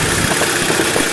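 Audi S3 engine idling with a new engine cover and cold air induction fitted, a dense, steady close-up hum with no rattles and no talk.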